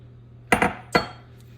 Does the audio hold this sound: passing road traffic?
no